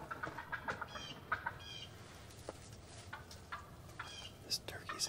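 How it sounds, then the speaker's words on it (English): Distant wild turkeys gobbling in bursts across the clip in Missouri, faint and outdoors, with scattered bird calls and soft background noise. "I can still hear turkeys just hammering."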